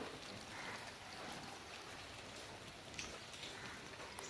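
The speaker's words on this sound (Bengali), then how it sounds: "বৃষ্টিটা কন্টিনিউ হয়েই যাচ্ছে, বৃষ্টি মনে হয় কমবে না" Steady, continuous rain falls outdoors near a waterlogged garden and a drain carrying runoff, heard as a soft, even wash of drops with no voices.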